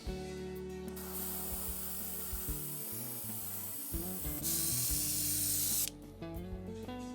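Hissing bursts of spray paint from a can onto a model ship, two long sprays in a row, close and steady, over a low background hum.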